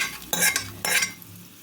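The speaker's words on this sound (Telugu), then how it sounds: "ఈ తాలింపు అయితే దీంట్లోకి అయితే వేసేసుకోవాలి" Two short bursts of sizzling as hot tempering oil hits coconut chutney, followed by quieter stirring scrapes, with no talking.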